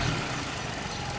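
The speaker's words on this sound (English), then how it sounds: "It's a race engine." British race engine idling steadily, a dense continuous rumble with no revving, close and fairly loud throughout.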